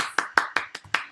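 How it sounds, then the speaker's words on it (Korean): Five distinct hand claps at a steady beat, close and fairly loud, for a student in a Korean English-conversation class. "박수, 뜨거운 박수 부탁드리겠습니다"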